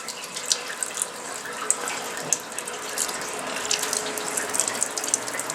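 Fluid from a parts washer line streams steadily through a pair of old Suzuki GS450 Mikuni carburetors, giving a continuous splashing hiss with small clicks and drips, close up and moderately loud.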